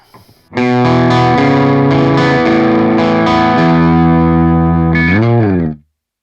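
Distorted electric guitar recorded direct through a Two Notes Torpedo C.A.B. M cabinet simulator, playing sustained chords, thick and saturated with a chorus-like shimmer, ending in a bend and quick fade.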